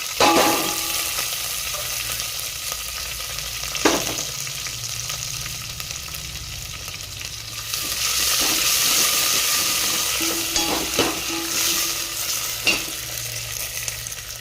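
Green chillies and coriander fry in a pan for an alu fry. A loud, sputtering sizzle runs throughout, with occasional spatula knocks and a surge of hissing steam midway, and no talking.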